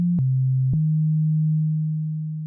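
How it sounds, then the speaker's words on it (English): Pure sine tone from a Digitakt synthesizer, a steady clean hum that shifts pitch twice with clicks early on, then holds one note alone and slowly fades. "let's just listen to the pure sine wave again."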